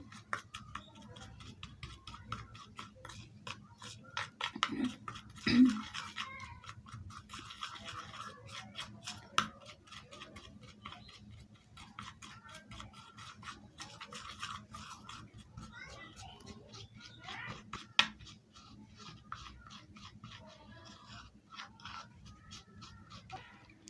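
Spoon scraping and clicking as coffee powder and honey are stirred into a smooth paste for a lip remedy, a steady busy clatter of small ticks lasting throughout at moderate, close range.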